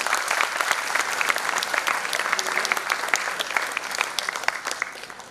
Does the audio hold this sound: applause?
yes